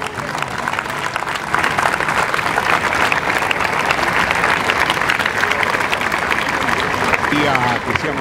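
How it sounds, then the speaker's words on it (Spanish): An audience of union delegates breaks into sustained applause at a meeting, a loud, dense wash of clapping that holds steady throughout, with a voice surfacing faintly near the end. "Que sea más fuerte el aplauso"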